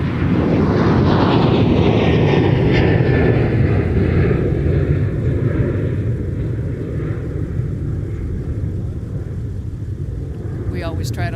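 An airplane departs at MSP airport, its jet roar loud and close at first, then slowly thinning and fading as it climbs away.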